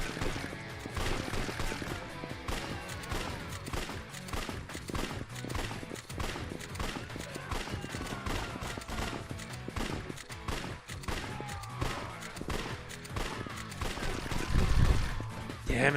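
Rapid gunfire rattles almost without pause during a shooting exercise in Yakuza 4 Remastered, dense and loud, with a few heavier thumps near the end.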